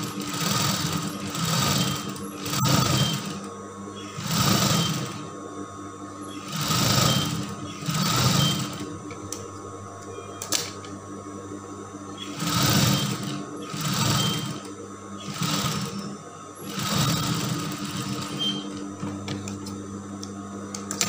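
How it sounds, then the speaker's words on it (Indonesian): Electric sewing machine stitching the hem of a draped skirt, running in repeated bursts of steady mechanical whirring with short pauses between them, close and moderately loud, with no talking. "Nah, ini untuk bagian bawahnya ini kita jahit dulu."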